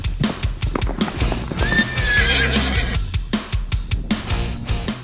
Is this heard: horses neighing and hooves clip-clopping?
yes